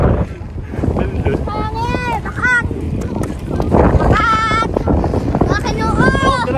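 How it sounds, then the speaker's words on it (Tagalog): Strong wind buffets the microphone on a white beach, a loud continuous rumbling roar, while people talk and shout excitedly over it. "Ang lakas ng hangin!"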